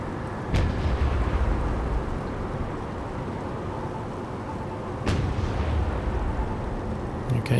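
76mm naval gun firing at incoming missiles in the naval strategy game Naval War: Arctic Circle, two sharp booming shots several seconds apart over a steady rumbling background.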